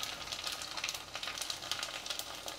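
Garlic, mustard seeds and cumin seeds sizzle in hot oil with a dense, continuous frying hiss and small crackling pops, close up and steady, with no talk.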